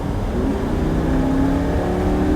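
A Lamborghini V10 accelerates on a Formula 1 race track, its engine a loud, steady, rising drone heard close up from inside the car, with no talking.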